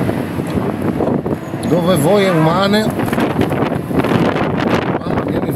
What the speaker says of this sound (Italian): mi vola via il cappello, che vento di merda